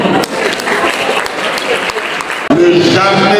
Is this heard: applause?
yes